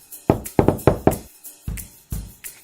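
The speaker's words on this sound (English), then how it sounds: "Little Red Riding Hood reached Grandma's house and knocked on the door" Knocking on a wooden cottage door in a children's fairy-tale reading: two quick bursts of three sharp raps, then two slower single knocks, close and clear with no talking over them.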